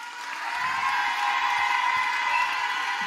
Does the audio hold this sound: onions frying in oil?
no